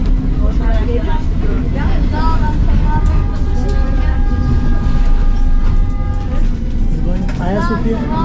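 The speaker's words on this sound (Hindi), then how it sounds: "ये है जी इस्तांबुल की मेट्रो।" An Istanbul metro train rolls along with a steady rumble and rattling wheel clatter, with faint squeals and people talking in the carriage.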